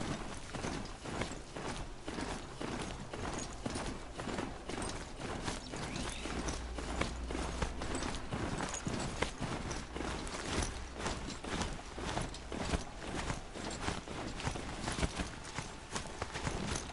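Horse hooves clip-clop steadily and close in the video game Horizon Zero Dawn, a quick, continuous run of beats with a faint mechanical clanking underneath.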